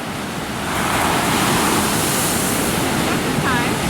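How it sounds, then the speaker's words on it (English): Ocean surf at a beach in Coconut Grove rolls in as a broad, steady roar that swells after the first half second and then holds, with wind buffeting the microphone and no voices. "as we sit here and watch the waves of the beach"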